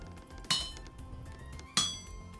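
Two sharp metallic clangs ring out about a second apart, each with a bright lingering ring, as a hammer strikes metal while smithing a hammer head at an anvil in the game Vintage Story.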